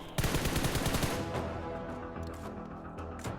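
Gunfire in the mobile battle-royale game PUBG Mobile: a dense rapid burst of automatic shots opens the clip, then a loud rattling barrage tails into a sustained wash of firing and impacts, close and continuous, with no voices.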